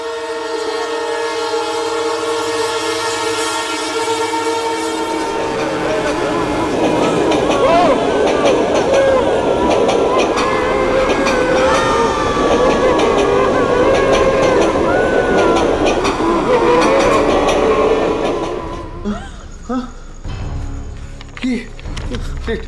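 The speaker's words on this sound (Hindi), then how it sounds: "ये ट्रेन रुकी ही नहीं।" A train sounds its horn loudly, then thunders past close by for a long stretch with rumbling and clattering wagons before the noise cuts off abruptly near the end.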